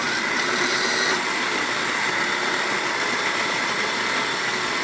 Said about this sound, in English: So our grinder right now is going to run for 20 seconds